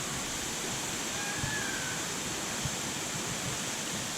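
A waterfall in South Wales gives off a steady, unbroken roar of rushing water, close and continuous throughout with no clear voices.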